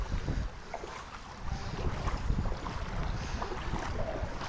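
Steady rush of water running through a slippery, moss-covered stream channel on the Amaravathi riverbank, a continuous broadband flow close to the microphone with no voices.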